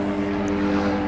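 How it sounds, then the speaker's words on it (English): A helicopter flies overhead during a search, its steady engine drone and rotor hum loud and continuous. "sorry about the helicopter noise"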